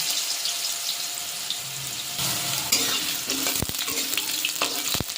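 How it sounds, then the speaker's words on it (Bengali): Potatoes frying in a pan with nigella seeds and green chillies, a steady close sizzle with stirring scrapes and a few sharp clatters toward the end; no talking. "আলুটা একটু ভাজা ভাজা হবে,"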